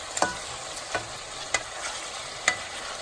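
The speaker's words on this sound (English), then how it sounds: "we're turning the meat again, just to make sure, you know, it's cooking well and everything" Chicken pieces for Jamaican curry chicken fry in a pan under a steady, moderate sizzle, with four sharp utensil scrapes or knocks as the meat is turned at irregular intervals.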